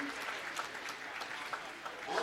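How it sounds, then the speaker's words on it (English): Spectators at a youth under-20 boys' bowling match play competition applaud steadily for a couple of seconds, a soft, distant wash of clapping heard alone. "let's give these young athletes a big round of applause"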